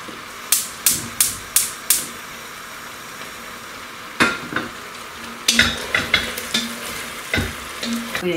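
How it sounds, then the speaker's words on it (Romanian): Pepper and onion sautéing in a cast-iron pot for a potato and pork stew: a run of sharp metallic scrapes and clacks from stirring, then a steady sizzle with more scraping strokes, close and fairly loud, no talk. "Și aici punem ardeiul și ceapa. Le lăsăm pe ele să se călească."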